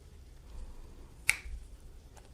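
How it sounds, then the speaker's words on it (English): A single sharp finger snap from a comedy magician doing a close-up trick, crisp and near, standing alone above a low background hum. "All to do is snap my fingers like this, and it comes to the top"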